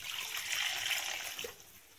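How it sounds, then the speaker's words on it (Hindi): Water is poured into a pan of rice with potatoes and green chilies for aloo tahari, a soft, faint trickling hiss that swells briefly and tapers off over two seconds. "और पानी ऐड करेंगे"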